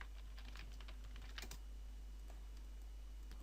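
Quiet typing on a computer keyboard, a scattered run of light key taps at close range over a steady low hum, with no talking.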